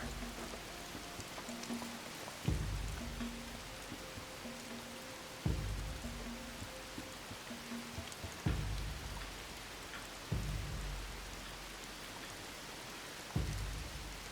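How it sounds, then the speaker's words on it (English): Steady rain falls in a video game survival world, a constant hiss with occasional louder thumps at regular intervals and a faint repeating tone beneath, no voices. "The rain looks pretty good."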